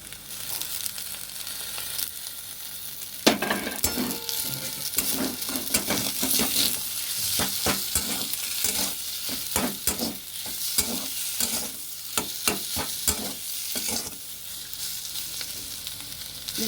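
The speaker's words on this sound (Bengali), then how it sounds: "দেখুন এইভাবে আলুটাকে ভেজে নিয়েছি আমি।" Potato filling for aloo paratha fries in a pan with a steady sizzle, punctuated by sharp metallic scrapes and clinks of a spatula stirring it, close and lively, no voices.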